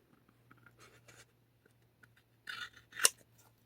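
Scissors trimming craft material for a moose project, a few quiet rustles and handling sounds followed by two crisp close snips, the last one sharp and clear, in an otherwise quiet room with no talk.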